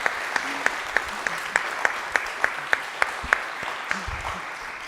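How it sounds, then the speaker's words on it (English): Audience applause following a talk at a special speaking event, heard as a soft spread of clapping from a crowd in a hall, with one nearer pair of hands beating out sharp, evenly spaced claps above the rest. "Let's give Melanie another big round of applause."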